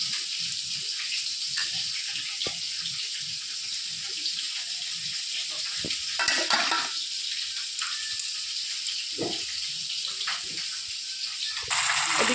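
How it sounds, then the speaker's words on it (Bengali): Katla fish frying in oil on a home stove, a soft, continuous hiss with scattered pops and clinks of utensils, fairly quiet and with no talking. "এদিকে মাছ এক পিঠ ভাজা হয়ে গেছে, আর এক পিঠ ভাজা হয়ে গেলে তুলে নেব"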